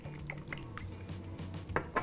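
Eggs, a splash of milk and salt rattle inside a ceramic egg cooker as it is shaken, giving soft sloshing with a few light clinks and taps, quiet and close, over roughly two seconds.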